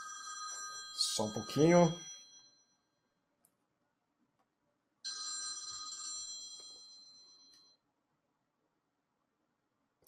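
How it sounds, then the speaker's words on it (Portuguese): A phone rings in short electronic bursts, once near the start under a brief spoken aside and again alone for a few seconds midway, with near-silence around it, during a lecture. "o telefone meu tocou aqui"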